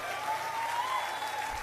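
Audience applause rising as a steady, fairly faint wash of clapping from a crowd, continuous throughout with a sustained tone running beneath it.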